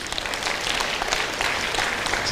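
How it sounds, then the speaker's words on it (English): Dense, steady applause fills a national conference hall at a women's degree college, many hands clapping at once and close, with no voices over it. "Give a big round of applause"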